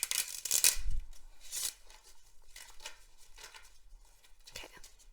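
Tarot cards are shuffled in several quick papery riffles and rustles during a reading, loud and close at first, then softer, with a few faint whispery sounds between them.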